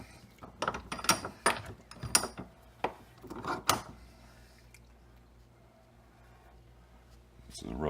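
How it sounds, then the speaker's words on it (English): A bench vise is tightened on a speaker part from a 2001 MR2 Spyder, producing a quick run of close, ratcheting clicks and knocks that fade into quiet. "So I'm going to clamp it up on the vise."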